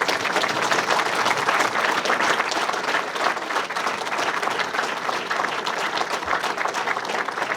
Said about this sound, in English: So if we could just give them one more round of applause.